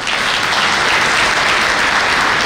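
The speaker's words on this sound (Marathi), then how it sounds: "म्हणून आमच्या स्टुडंट्स करता जरा जोरात टाळ्या वाजवा." Sustained loud applause from a large audience at a medical college white coat ceremony, a continuous dense wash of clapping with no voices on top.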